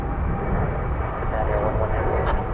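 A Japan Airlines wide-body jet at DFW Airport gives off a steady, loud engine roar that holds evenly throughout, with voices talking over it.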